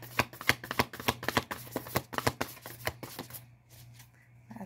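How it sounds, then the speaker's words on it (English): A tarot deck is riffled and shuffled by hand, with quick crisp card flutters and taps in a rapid rhythm close by, then a quieter pause near the end. "This deck is hard to shuffle."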